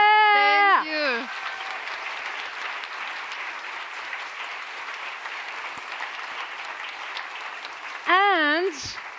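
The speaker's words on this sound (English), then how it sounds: "a big applause to our whole tech team" An audience applauds at a closing event, a dense, even wash of clapping filling the middle, with a voice speaking briefly just before it starts and again as it ends.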